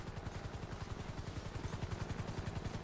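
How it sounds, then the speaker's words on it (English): A medevac helicopter hovers directly overhead in GTA V, its rotor chopping in a fast, even, thudding rhythm that stays loud and constant throughout. "I can't see the medevac because it's right above us."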